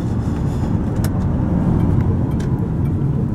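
A 1994 Ford truck driving along a road, a steady, loud engine and road rumble heard from inside the cab that stays constant throughout, with no talking.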